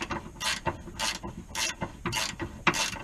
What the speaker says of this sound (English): you're just gonna have to unscrew it like that